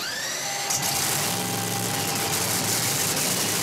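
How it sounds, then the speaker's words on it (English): Fourteen nitro-burning drag racing cars fire up together on the start line at Sydney Dragway, a dense, loud, continuous engine roar filling the air. "14 thumping nitro-burning engines."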